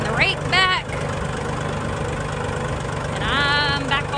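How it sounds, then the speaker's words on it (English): Tractor engine idling on a farm pasture, a steady low rumble running throughout beneath voices and talk that come and go over it. "And I'm back on the tractor."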